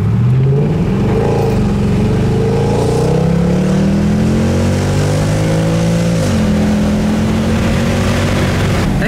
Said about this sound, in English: As you can hear, this car is insanely loud.